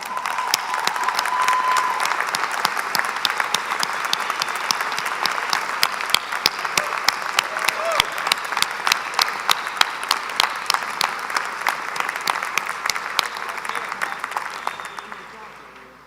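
Sustained applause from a large audience honouring new graduates at the St. Bonaventure University commencement, a dense continuous clapping that holds steady for about fifteen seconds and then tapers off at the end.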